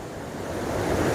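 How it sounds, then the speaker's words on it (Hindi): A small waterfall spilling into a crystal-clear river produces a steady, full rushing wash of water, close and continuous with no voices over it. "और यहाँ से एक वाटरफॉल भी निकलता है, देखिए छोटा सा वाटरफॉल।"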